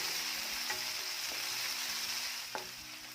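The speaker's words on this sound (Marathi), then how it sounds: "कांदा चांगला सोनेरी भाजून घ्यायचा आहे" Onion and finely chopped tomato fry in a pan for a dahi bhindi (okra) dish, giving a steady, even sizzle with a few soft stirring knocks, close and moderately quiet, with no voices.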